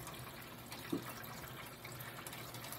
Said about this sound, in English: that's a second faucet we have on